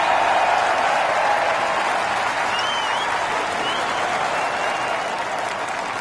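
Golf spectators applaud on the green after a bold eagle attempt at a California tournament in a golf video game, steady dense clapping from a sizeable crowd that holds throughout and fades only slightly at the end.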